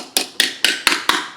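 Five sharp, evenly spaced hammer taps drive a thin wedge to pry a cover off a used Defender gearbox or transfer case. Each strike rings out crisp and close.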